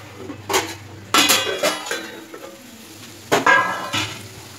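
Bitter gourd (pagarkai) sautés in a pan on a low simmer for poriyal, with irregular loud spatula scrapes and metallic clinks over a soft, steady sizzle, close by.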